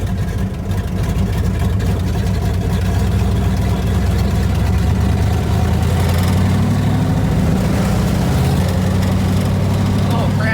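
A Toyota Corolla with a swapped-in 5.0 V8 runs hard on a ride with some boost, a loud, constant deep engine roar with a rattling car body, and people talking and shouting over it throughout.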